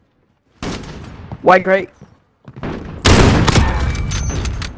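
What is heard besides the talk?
gunfire in video game Call of Duty Modern Warfare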